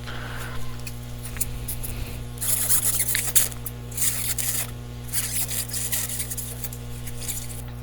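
A sharp utility knife slices through a styrofoam ball, giving scratchy squeaking and rasping bursts in short strokes, close and fairly faint over a steady background hum.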